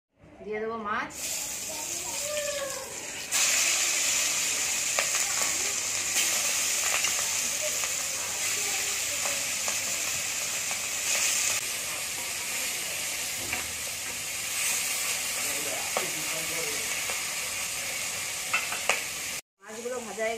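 Bata fish fry in hot mustard oil in a kadai, giving a loud, continuous crackling sizzle that holds steady for about twenty seconds before cutting off briefly near the end.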